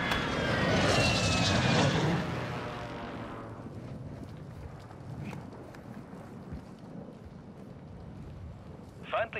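A reconnaissance aircraft flies over in the video game Warzone 2. A loud roaring engine pass with wind rush fills the first two seconds, then fades into a distant rumble, followed by a brief sharp click near the end.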